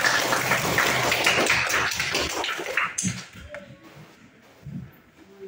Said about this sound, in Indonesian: Ya, tepuk tangan dulu buat kalian semua.